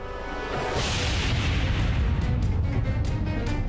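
A 34,000-volt electrical explosion tears through a boat, a loud sustained roaring blast with crackling bursts continuing throughout, close and violent.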